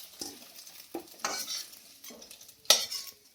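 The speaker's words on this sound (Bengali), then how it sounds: "এটা ডিমটা ভেজে দিই।" An egg fries in a pan, with the spatula scraping and stirring in short repeated strokes over a soft sizzle, close and clear with no talking.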